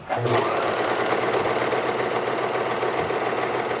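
Serger overlocking along the top and bottom edge of a cloth mask, running fast and steady for a few seconds with a dense mechanical whir right at the microphone.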